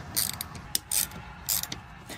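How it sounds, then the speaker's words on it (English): A 1/4-inch drive ratcheting crescent wrench clicks through several short bursts of fine ratchet ticking, close and fairly quiet, with brief pauses between turns. "This is literally a 1/4-inch drive ratcheting crescent wrench."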